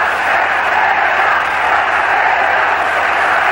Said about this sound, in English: This crowd, largely natives of the island, chanting for their champion